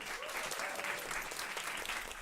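Steady, dense applause from an audience at a food-future event, filling the short moment evenly at moderate loudness with no pauses.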